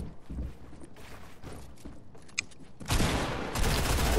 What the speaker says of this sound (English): They both stood next to me and shot.